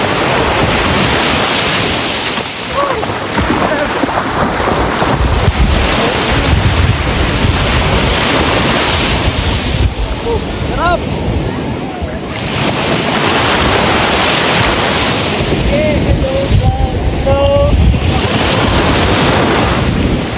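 Sea waves at the beach during a sand dunes run event in Sanchez Mira make a loud, continuous wash of surf mixed with wind buffeting the microphone, with faint voices and calls in the background.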